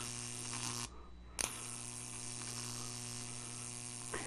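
High-voltage transformer output of 10,000 volts arcing through a screwdriver in a garage, a steady loud electric buzz with strong hum that cuts out briefly and snaps back with a crackle.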